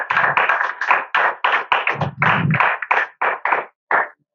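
A church congregation applauds in a series of loud, rhythmic bursts of clapping, roughly a dozen claps in quick succession with short gaps toward the end.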